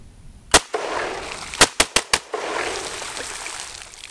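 An SKS rifle fires several close, sharp gunshots outdoors: one shot, then a quick group of four in rapid succession, each ringing with a brief echo.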